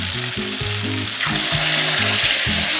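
Hot water cornbread frying in a pan over medium-low heat, a loud continuous sizzle and crackle filling the whole stretch, with low bubbling pops underneath and no talking.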